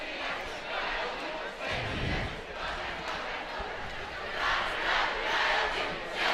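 Crowds at a high school boys basketball game cheering and yelling in a gym, a loud sustained roar with swells, under an announcer's commentary.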